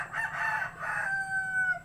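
A rooster crows in one long drawn-out call, with other chickens faintly clucking around it, in a coastal setting where a large monitor lizard stalks fowl nearby.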